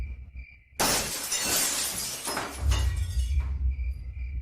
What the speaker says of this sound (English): Suddenly, a rock smashed through my window, making a loud noise like a gunshot.